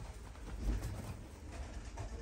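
Yellow Rostov pigeons in a Turkish loft give soft, low, throaty coos, close and faint over a steady background hum.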